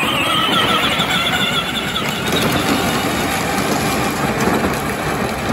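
New electric motors drive a John Deere Gator ride-on toy by Peg Perego on a fresh battery, a loud continuous whirring hum with rough rolling noise and no speech.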